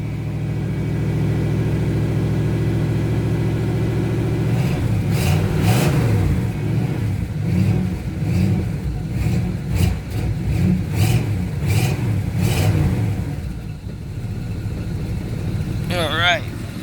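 A Pontiac Firebird engine runs after a cold start on a cool morning in Maine, settling from a steady high idle into a lower, loping rumble with occasional revs, loud and close while someone talks over it.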